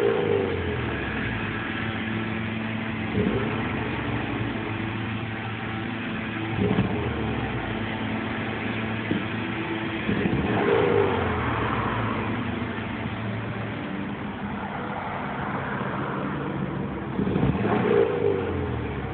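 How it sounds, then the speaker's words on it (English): An engine idles, then is revved to full throttle in short repeated surges, moderately loud and slightly distant with a muffled, narrow tone, and no one speaks. "It's idling. No, I'm going to give it full throttle."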